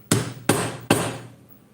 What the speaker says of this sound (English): I will hammer this in if I can. I will use the wooden fucker.